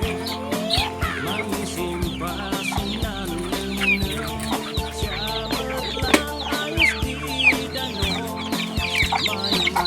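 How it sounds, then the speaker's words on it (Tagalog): Chickens being fed cluck busily and repeatedly, with a few higher chick chirps mixed in, steady and close throughout with no talking. "magpapakain ng mga manok"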